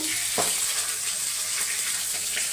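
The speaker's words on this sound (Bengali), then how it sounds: "কড়াইতে তেল দেবো মাছ ভাজার জন্য এখানে পাঁচফোড়ন দেবো" Panch phoron spices crackle in hot oil in a kadai, a continuous close hiss with a few sharp pops, with no talking.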